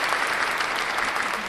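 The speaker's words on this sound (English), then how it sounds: "give us another clap" A short burst of audience applause, dense and continuous with no voices over it.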